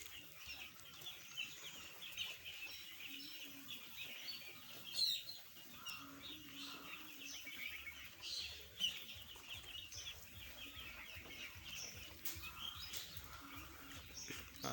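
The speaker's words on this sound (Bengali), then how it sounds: "সবটি মুরগি সুস্থ আছে," A flock of about a thousand eight-day-old broiler chicks in a poultry shed peeps and chirps continuously, soft and somewhat distant, with occasional louder calls rising above the quiet hum.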